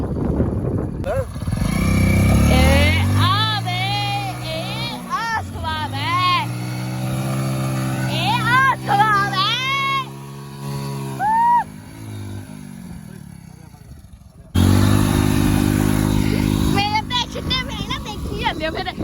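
A motorcycle engine drones loud and close in a farm field, its pitch rising and falling with each rev, cutting out briefly before roaring back.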